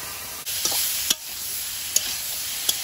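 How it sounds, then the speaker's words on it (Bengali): Ground spice paste frying in a pan with green banana, potato and tomato, giving a steady close sizzle punctuated by a few sharp clinks of a stirring spoon. "এবার গোলা মশলাটা দিয়ে দেবো।"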